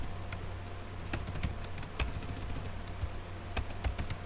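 Typing code on a computer keyboard, a close run of quick irregular key clicks with small bursts and pauses over a low steady hum.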